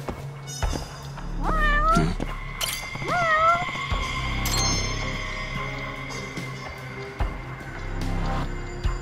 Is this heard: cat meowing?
yes